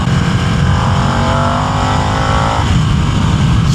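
A Harley-Davidson Nightster motorcycle accelerates hard, its engine note rising steadily and loud and close, with strong wind rush filling the background throughout.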